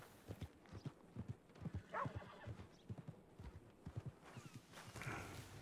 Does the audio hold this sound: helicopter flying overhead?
no